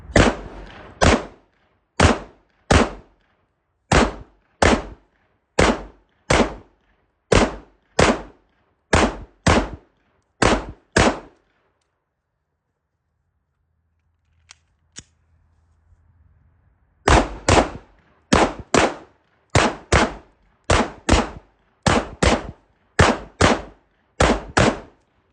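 A Smith & Wesson M&P 2.0 pistol fires fast strings in a burndown, loud sharp shots in quick rhythmic pairs and bursts, then a pause of several seconds before rapid firing resumes.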